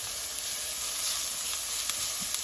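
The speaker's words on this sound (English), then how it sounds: "But we're pan searing them today." Steak and onions pan-searing in butter give a steady, bright, hissing sizzle, close and continuous, with occasional small pops and crackles spitting from the hot pan; no voices.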